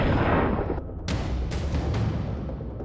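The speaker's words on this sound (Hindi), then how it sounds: "इस जंग में एक टैंक आग के शोलों में तब्दील होकर एक जबरदस्त धमाके के साथ उड़" A tank explodes in a loud, rumbling blast that roars and decays, followed by several sharp cracking bursts in quick succession, no voices heard.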